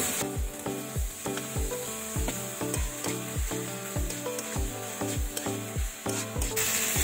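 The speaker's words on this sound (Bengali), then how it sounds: "এই মশলা থেকে তেল বেরিয়ে গেছে, এখন এর মধ্যে সিদ্ধ করা কাঁঠাল দিয়ে দেবো" Boiled raw jackfruit hits a pan of oily fried spice masala, sizzling steadily while a spatula scrapes and knocks against the pan in a regular, close rhythm.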